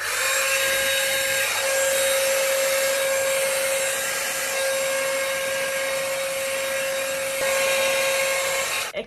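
A Britânia BER22RX rotating hot air brush running steadily at close range, with a loud, even whirring blow of motor and fan and a constant high tone, alone without talk until it cuts off at the end.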